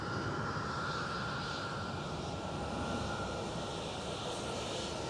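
Jet engines of a Vueling airliner in Barcelona livery rumble steadily at Amsterdam Schiphol, a continuous mid-distance roar with a faint high whine, no voices.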